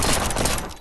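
Rapid gunfire in a video game, a dense burst of quick shots rattling loudly for under a second before tailing off.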